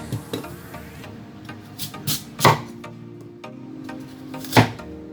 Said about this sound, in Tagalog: itong carrots, hiwain lang natin yung pa-square